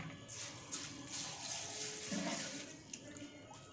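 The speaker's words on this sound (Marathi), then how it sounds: "आपल्याला हे स्वच्छ पाण्याने अगोदर धुवून घ्यायचे आहेत।" A bowlful of green mung beans is rinsed in clean water, with soft running and sloshing water in a kitchen, continuous and fairly quiet.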